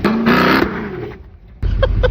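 A cammed LS2 V8 in a Pontiac GTO runs loud and close, with a rough, lumpy rumble that swells, drops back toward idle, then surges again.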